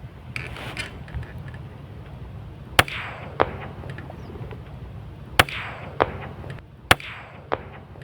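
A .22 LR rifle fires during a duck hunt outdoors, with several sharp, isolated cracks spaced a few seconds apart and small ticks and clicks over a low, steady background.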